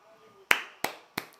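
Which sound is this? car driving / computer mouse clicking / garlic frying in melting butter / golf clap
golf clap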